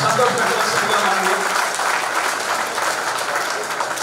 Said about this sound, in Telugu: అందరూ కూడా ఇంకొకసారి చప్పట్లతోటి వారిని సంతోషపెట్టవలసిందిగా